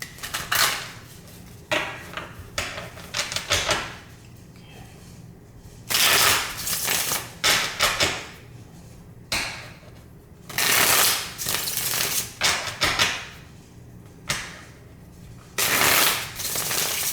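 A deck of tarot cards is shuffled by hand in repeated bursts of crisp riffling and flapping, separated by short quiet gaps, close and clear with no speech.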